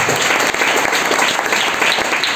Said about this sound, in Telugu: చప్పట్లు కొట్టి దేవుడికి స్తోత్రం.